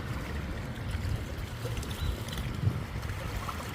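Lake water lapping softly against small rocks along the shore, a steady low washing with faint splashes and an ocean-like murmur, fairly close and continuous, with no voices.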